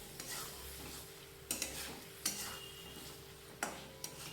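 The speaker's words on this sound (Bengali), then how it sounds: "দিয়ে দেওয়ার পর খুব ভালোভাবে মিশিয়ে নিচ্ছি।" Fried potato pieces are stirred into masala in a pan for an egg korma, with faint, steady scraping and a few light spoon knocks against the pan.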